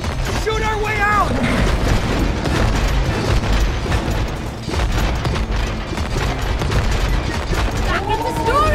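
Rapid gunfire and booming blasts from the video game It Takes Two, dense and continuous over a heavy rumble, with characters shouting over the shooting and a whirring mechanism in the mix.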